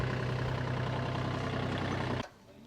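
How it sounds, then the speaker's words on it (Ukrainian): A small tractor engine idles with a steady low throb, close and even, then cuts off abruptly near the end, leaving quiet background. "Дуже чудовий, зручний трактор."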